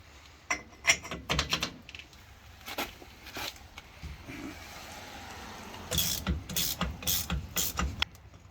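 A ratchet turning a 2 9/16 socket on the rear axle nut of a Dana 70 axle under a first-generation Cummins truck, heard as close, loud bursts of metallic clicking in two separate runs.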